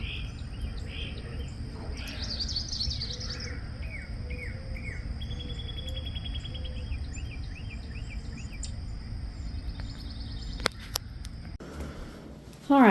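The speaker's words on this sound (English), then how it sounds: "Y'all hear the birds?" Birds sing outdoors on a hot, humid day, with repeated chirps and trills at a moderate distance over a steady insect buzz, and a sharp knock near the end.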